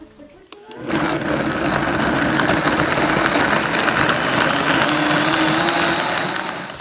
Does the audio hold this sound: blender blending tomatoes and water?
yes